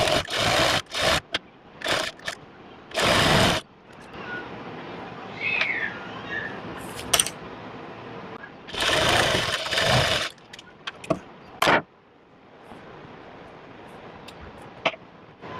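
A sewing machine stitches a baby dress in several short, loud bursts separated by quieter pauses, with faint handling sounds in between.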